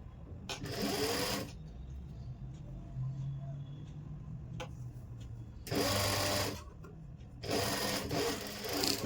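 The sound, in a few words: sewing machine stitching a suit collar strip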